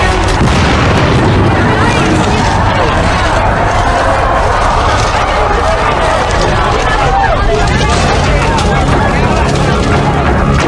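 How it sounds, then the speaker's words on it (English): Natural gas condensate tank cars exploding at a burning plant: a continuous loud, dense roar of fire and blast noise fills the whole stretch with no clear gaps. "The explosion splashed flaming gasoline across the plant grounds and onto surrounding buildings."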